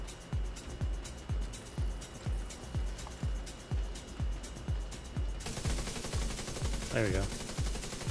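Steady, evenly spaced automatic gunshots in The Division 2, a rhythmic string of punchy bursts that gives way to a denser, noisier stretch of fire near the end, with someone speaking briefly.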